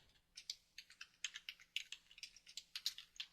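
Quick, light clicking of keys on a computer keyboard, an irregular run of close taps with short pauses, heard alone without talk.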